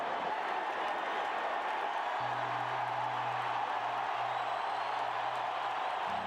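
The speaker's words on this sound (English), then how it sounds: "This crowd is buzzing." Dense, steady roar of a large baseball stadium crowd at a 1998 Chicago Cubs game moments after a Sammy Sosa home run ties the score, a continuous wash of cheering and applause with a faint low tone running beneath.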